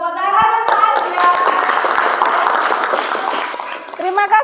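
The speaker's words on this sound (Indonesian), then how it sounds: "Tepuk tangan untuk Azra." A classroom of students claps together in a brisk burst of applause that runs for several seconds, with a teacher's voice heard at the start and the end.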